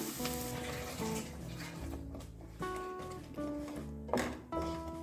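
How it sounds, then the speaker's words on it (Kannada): Ground masala for an onion gravy fries in a pan, a faint sizzle with scraping stirring strokes and clinks of a utensil in bursts, while low background tones hum underneath. "ಮಸಾಲೆನ ಸ್ವಲ್ಪ ಚೆನ್ನಾಗಿ ಫ್ರೈ ಮಾಡೋಣ"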